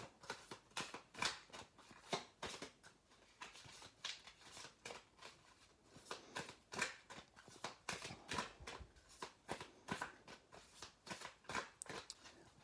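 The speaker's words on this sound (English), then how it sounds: "Let's just give the cards a final shuffle." A tarot deck being shuffled, with soft rapid riffles and card flicks in irregular bursts, close by and fairly quiet, with no talking.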